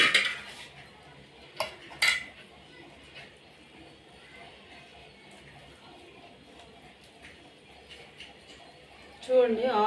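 Avakaya mango pickle being mixed with oil in a pot or bowl, giving a few sharp clinks of utensil against dish over a faint, quiet stirring background.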